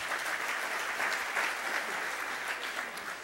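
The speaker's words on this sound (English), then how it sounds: "let's have a round of applause for them" An audience at a State of the City event gives a round of applause, steady moderately loud clapping from many hands that tapers slightly toward the end.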